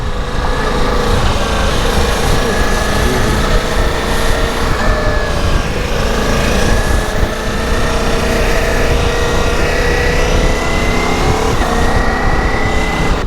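A Ducati Multistrada V4S motorcycle engine drones loudly and steadily throughout a test ride, with wind noise and a rising, shifting engine tone and no talk.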